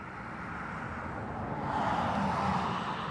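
An airliner landing in a crosswind at Dublin Airport, heard as a distant, steady jet rumble that grows slightly louder and brighter as the plane approaches, with no talk.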